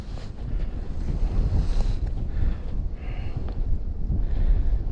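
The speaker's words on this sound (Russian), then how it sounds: "Ужас, какой ветер сильный" Strong wind blows over an ice-fishing spot on the Pechora river in spring, a constant loud roar of gusts buffeting the microphone.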